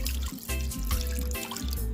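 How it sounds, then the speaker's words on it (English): Half a cup of water is poured into coconut shrimp batter, a close, gurgling stream that comes in short bursts with brief gaps. "about half cup of water."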